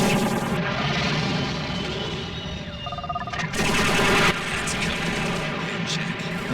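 Missiles and gunfire roar almost continuously through a Robotech Battlecry battle, dense loud explosive noise with a brief sharper burst near the middle and no clear talk.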